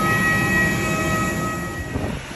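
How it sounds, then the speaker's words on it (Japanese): Steady rumble of a commuter train carrying a passenger home in Japan after a flight, continuous and fairly loud throughout with a constant high whine, no talk. "なんとか乗り込めた 電車で家まで帰ります"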